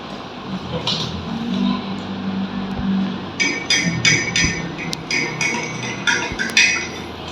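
Salt being added to a glass of water, with bright glassy clinks and taps coming in a quick irregular run during the second half after quieter handling noise.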